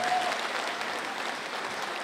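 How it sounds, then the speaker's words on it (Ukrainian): Warm applause from a concert audience at a jubilee show, a continuous even wash of many hands clapping, moderately distant and steady for a couple of seconds. "за теплі оплески"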